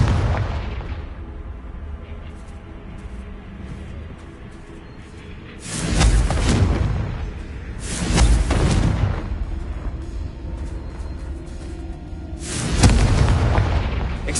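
Spell blasts erupt in the Hogwarts Legacy video game as a Confringo fire spell hits, three heavy booming explosions spaced a few seconds apart, each with a rumbling tail over low ambient background.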